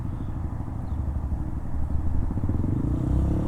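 Motorcycle ridden by a learner rider making turns, engine puttering low and rough with throttle blips that swell slightly louder toward the end, mid-distance and steady.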